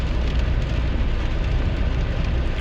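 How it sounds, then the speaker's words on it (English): Steady rain drums on a 2001 GMC Sierra pickup during a drive in a storm, a continuous dense patter over low road and cabin rumble, with no talking. "I love rain. I love the storms,"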